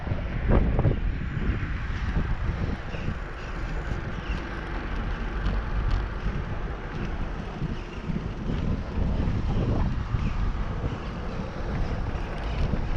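Steady wind buffeting the microphone while cycling outdoors, a continuous loud rumbling roar with gusts rising and falling throughout, no voices.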